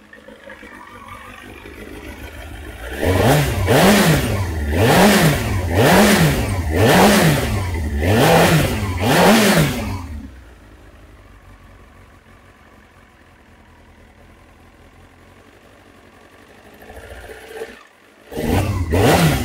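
Kawasaki ZX-9R motorcycle engine fitted with new spark plugs and coils, blipped through six quick rhythmic revs over a steady idle, then settling back to a quieter idle before one more rev at the end.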